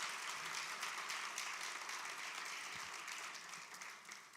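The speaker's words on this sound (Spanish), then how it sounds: "Dale un aplauso fuerte a Jesús." A church congregation at a Spanish-language service claps in a steady, enthusiastic round of applause. The continuous crackle holds evenly throughout and eases a little at the close.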